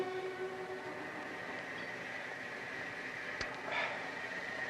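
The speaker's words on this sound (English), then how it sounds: "Was that the London train?" A London train departs a station with a steady, close rumble and a short sharp burst near the end. No one speaks.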